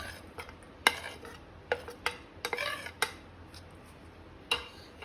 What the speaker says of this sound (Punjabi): ਇਹ ਸਾਰੇ ਤਾਂ ਅੰਬ ਵਿੱਚ ਮਿਕਸ ਕਰ ਦਾਂਗੇ ਆਪਾਂ